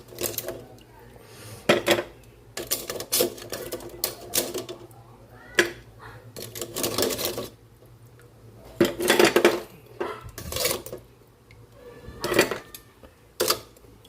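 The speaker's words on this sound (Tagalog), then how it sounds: "Hanguin natin yung ating talaba para magamit natin yung kaldero sa sinigang." Oysters are scooped out of a metal cooking pot with a utensil, giving scattered clinks, scrapes and clattering knocks in uneven bursts, close by under a steady low hum, with brief talk in between.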